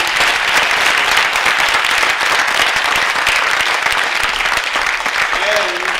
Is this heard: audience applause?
yes